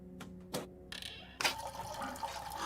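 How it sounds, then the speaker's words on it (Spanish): A toilet flushes in the horror video game Layers of Fear 2, with a few short tonal game sounds before a sudden rush of gushing water that keeps swirling and filling, moderately loud and close. "Hemos descubierto cómo se tira de la cadena."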